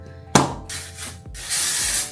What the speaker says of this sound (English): I also put this IGK Beach Club spray and then I just let it air dry like that.